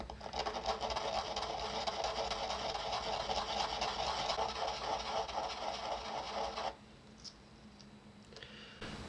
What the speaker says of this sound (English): So we're just going to take the top off this guide just on a piece of sandpaper.